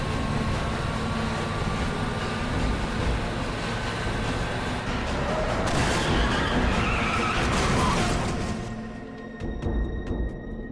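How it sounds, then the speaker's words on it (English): Truck tires skid and smoke during a staged film stunt, a loud sustained roaring screech with grinding noise that rises around the middle, then tapers and thins toward the end. "have one truck smoking the tires"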